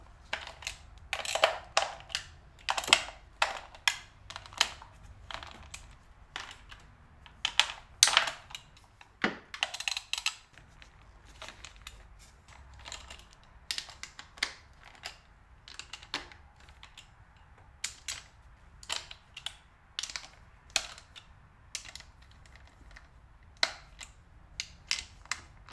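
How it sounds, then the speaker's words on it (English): Ratchet clicks and metallic ticks as 10mm valve cover nuts are undone on a BMW E34 525i with the M50 engine, quiet irregular bursts of clicking close to the microphone with no talk. "we're ready to start undoing all of these nuts around the outside. These are all 10mm"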